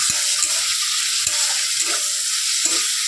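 Fish sizzling in a pan of hot oil, a loud, steady frying hiss with a few soft knocks of a spatula stirring, and no voices.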